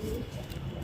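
A newly caught pigeon gives a brief low coo, close and alone against steady background noise.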